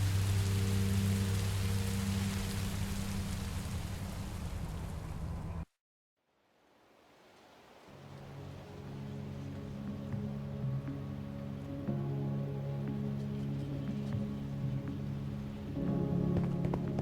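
Steady rain in the video game Minecraft: Story Mode, a broad hiss of falling drops heard alone; it cuts out abruptly partway through, then swells back in gradually and holds at a constant level.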